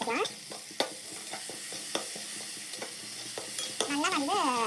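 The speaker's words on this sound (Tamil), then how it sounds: "இப்போ நம்ம நல்லா வதக்கி விட்டுக்கலாம்." Ginger garlic paste is sautéed with onions in a pan for a chicken gravy, a steady close sizzle broken by sharp spatula clinks and scrapes. A voice rises briefly near the end.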